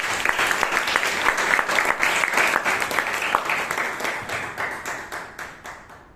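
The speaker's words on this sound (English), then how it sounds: "So please give him a big hand of applause." Sustained applause from a Toastmasters meeting audience in Bangalore, dense clapping that holds steady and then gradually thins and fades toward the end.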